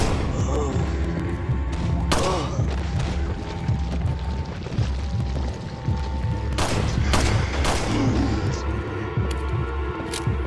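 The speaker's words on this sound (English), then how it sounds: "How are they surviving these rifle shots?" Rifle shots in the horror action game Resident Evil 4, a rapid, loud string of gunfire with heavy booms and thuds, running continuously over a dense backdrop of game noise.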